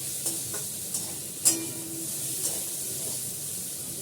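Vegetables for chow mein fry in a pan, making a soft sizzle and hiss broken by a few light clicks and scrapes of stirring, with no one speaking.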